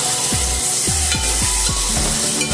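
Chopped tomatoes with chili and turmeric powder sizzle loudly in a pan for keema while a spoon stirs and scrapes through them in quick repeated strokes, with no voice over it.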